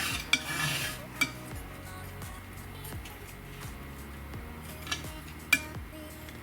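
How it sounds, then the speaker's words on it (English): A palette knife works oil paint back and forth on a palette, giving quiet repeated scraping strokes in a steady rhythm with a few brighter taps, faint and close. "So mixing like that, back and forth, laying it out, picking the knife, picking all the colors up on the knife, and then spreading them out."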